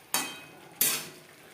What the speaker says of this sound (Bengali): মশলার সাথে ফুলকপি বেশ ভালো করে মিক্স করে দেবো।